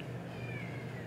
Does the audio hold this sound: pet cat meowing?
yes